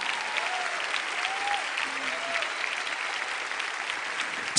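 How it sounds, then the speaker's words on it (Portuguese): A church congregation claps steadily throughout, a dense, even wash of applause that fills the room at a constant loud level with no pauses. "Vamos aplaudir enquanto eles saem, irmãos. Aplauda forte aí"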